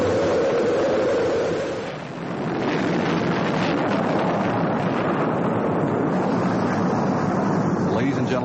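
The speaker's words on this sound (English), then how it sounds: "We have main engine start." Space shuttle main engines roar at launch, a dense, loud broadband rumble that dips briefly and then holds steady and powerful, with no clear speech.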